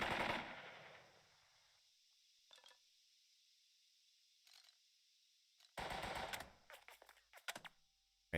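Gunfire from the video game Burden of Command comes in short crackling bursts: a long noisy burst first, a couple of brief isolated shots, then a dense rattling volley of repeated shots near the end, with quiet gaps between.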